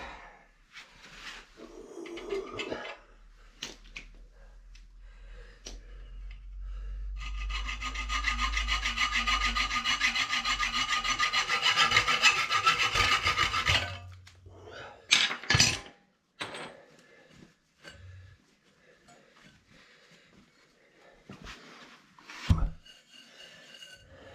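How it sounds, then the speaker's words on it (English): A hacksaw cuts through a fitting on new household water pipework, a steady back-and-forth rasping run for several seconds, close and fairly loud, followed by scattered clicks and handling knocks. "See me get the hacksaw at it."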